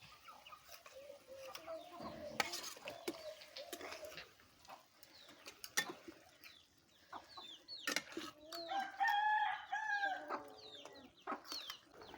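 Ducks and chickens gather near a kitchen cooking stove, giving scattered clucks and calls at close range that come and go over faint room noise.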